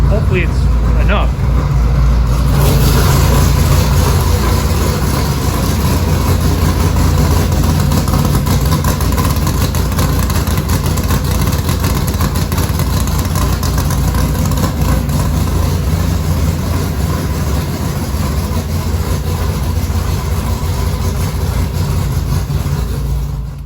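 A 356 cubic inch Gen 1 small block V8 street/strip engine idles loudly and steadily with a lopey cammed rumble through the tailpipe, running alone without pause.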